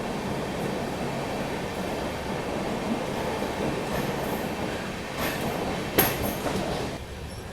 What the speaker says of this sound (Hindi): अपनी गाड़ी राजा की मंडी रेलवे स्टेशन स्किप कर रही है ठीक ठाक रफ्तार में